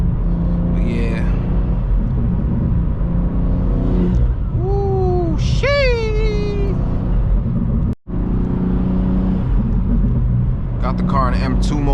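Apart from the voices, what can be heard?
BMW G87 M2 car engine while driving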